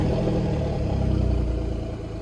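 An Alfa Romeo Giulia Quadrifoglio GTAM engine starts and settles into a loud, rumbling idle, with a pulsing low throb heard up close.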